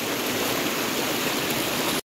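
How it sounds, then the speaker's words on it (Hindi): Monsoon rainwater pours down a hillside path near a cliff, a dense, loud, continuous rushing like a small stream, steady throughout and then cut off abruptly, with no talking. "ये देखो पूरे पानी आ रहा है, ये रास्ता है।"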